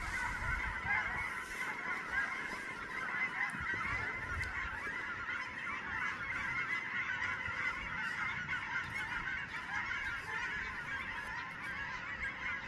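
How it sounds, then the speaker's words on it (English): Ducks calling steadily while running in alarm outdoors, a dense chorus of honking, quacking calls that carries on without a break over open-air background noise, with no speech. "The ducks are running for their lives."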